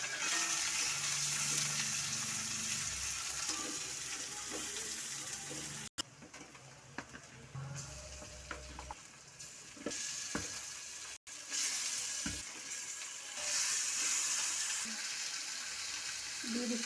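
A large onion frying in a pan, giving a dense, steady hiss and crackle that runs the whole time, briefly cut twice, with faint stirring knocks underneath.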